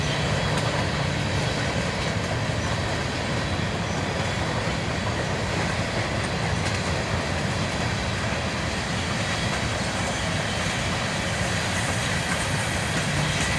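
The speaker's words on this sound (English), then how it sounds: "A Norfolk Southern train led by an SD70 ACC and an ES40 DC. This train was all covered hoppers." Norfolk Southern freight train of all covered hoppers, led by an SD70ACe and an ES40DC, rolls across a bridge with a steady, continuous rumble and rail clatter that stays loud throughout.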